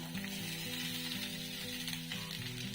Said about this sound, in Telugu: బాగా అంతా కలిసేలా కలుపుకొని మరి కొంతసేపు వేయించుకోవాలి